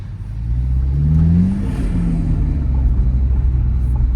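A Toyota GR Supra 2.0 four-cylinder engine fitted with an aFe Takeda intake revs up loudly and close, the pitch rising then easing back into a steady, deep idle-like drone.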